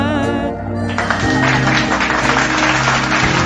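An audience at an evening music jamming session applauds a singer, scattered, moderately loud clapping over a held musical chord that rings underneath.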